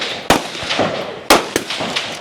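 Gunshots ring out on a stage of the 2025 Ohio Regional elite men's shooting competition: a few sharp, loud reports about a second apart, each trailed by fainter echoing pops, with no talk.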